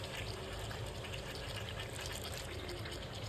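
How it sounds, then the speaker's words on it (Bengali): Water poured into a spice mixture of garlic and masala in a pan while cooking black pepper chicken, a steady faint pouring and trickling with no break, no voices. "আর একটু জল দিয়ে দিলাম যাতে মশলাটা লেগে না যায়"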